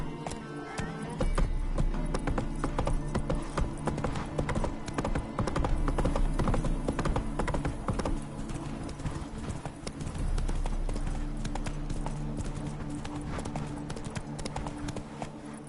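Hooves pound in a continuous fast gallop as a horse is ridden in The Witcher 3, the close, driving clip-clop rhythm holding throughout with only faint background sound.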